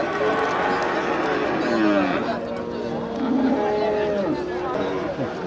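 Kangeyam breed calf and other cattle mooing at the busy Manapparai cattle market, drawn-out calls rising and falling amid loud crowd chatter and people talking nearby.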